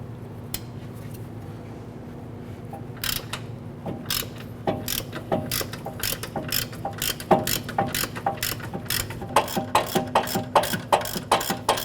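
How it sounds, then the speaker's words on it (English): Ratchet with a 17mm socket loosening the rear lower control arm bolt on a 2008-2012 Honda Accord, a close run of sharp metallic clicks that starts sparse and becomes a steady rapid ratcheting over a low background hum. "We're going to use our 17mm socket on our ratchet to go ahead and remove our rearward lower control arm bolt."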